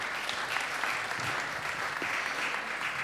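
Steady applause from a forum audience on citizen participation, dense clapping throughout at an even, moderate level.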